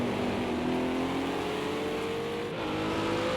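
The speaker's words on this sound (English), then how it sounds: "GZ's Janettas sound pretty strong as well in that sound department." Ginetta race car engines at an endurance race, a steady loud engine drone with rising pitch as the cars accelerate, continuous throughout.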